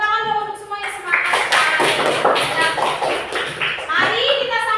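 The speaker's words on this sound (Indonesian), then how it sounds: "tepuk tangan dong untuk semua yang semangat." Schoolchildren in a classroom clap together in a lively round of applause, loud, mixed with children's voices and cheering.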